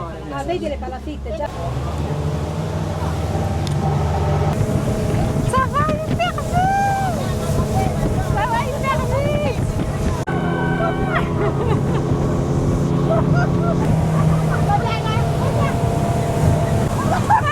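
Steady rumble of a boat motor and rushing water with wind gusting over the microphone in Hong Kong, while people talk and exclaim throughout.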